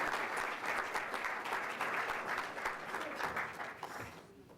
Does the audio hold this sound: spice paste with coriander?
no